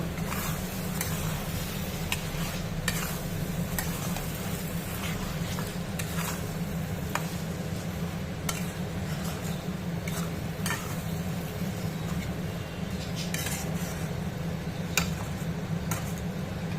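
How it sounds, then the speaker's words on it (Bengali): Mango chicken, made with raw green mango, stirred in a pan over a steady loud sizzle, with frequent ticking scrapes and clicks of the spoon against the metal throughout. "একবার ভালো করে ওর সাথে নেড়ে নেব"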